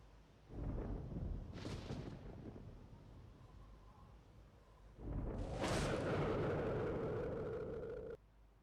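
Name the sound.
thunderstorm in the video game Arma 2 DayZ mod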